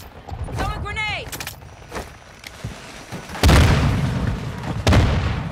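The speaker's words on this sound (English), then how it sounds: "Throw a grenade!" A grenade detonates during a Call of Duty match in Kunstenaar District, two heavy booming blasts landing near the end amid mechanical clatter, with game voice chatter and faint gunfire earlier.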